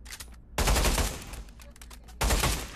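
Two bursts of rapid automatic AK-47 fire in the Pavlov VR shooter, each a loud, close rattle of shots, the first lasting over a second and the second shorter, separated by a quieter gap.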